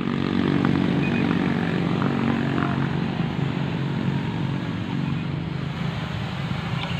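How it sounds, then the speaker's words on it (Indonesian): An SJRC Z5 GPS drone in flight gives a constant whirring propeller buzz, steady and fairly loud throughout with little change in pitch. "Oke, ini drone-nya."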